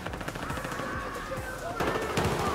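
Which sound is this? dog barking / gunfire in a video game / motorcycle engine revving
gunfire in a video game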